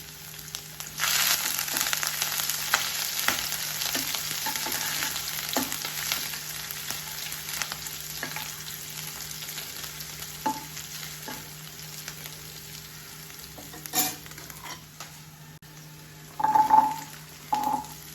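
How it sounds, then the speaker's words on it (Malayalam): A steel ladle stirs crushed ginger, garlic and green chillies frying in a non-stick pan for squid roast, giving a steady sizzle with scattered scraping and tapping clicks, with a louder clatter of stirring near the end. "നമ്മൾ നോൺ സ്റ്റിക്ക് പാനിൽ എന്തുകൊണ്ടാണ് സ്റ്റീൽ തവിയിട്ട് ഇളക്കുന്നത്"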